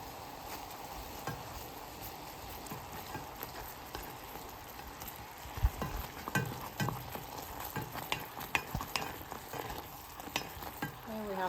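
Starch mixture being stirred in a pot while making tea: steady scraping and swishing with uneven clunks and taps of the utensil, louder bursts of vigorous mixing in the second half, no voices.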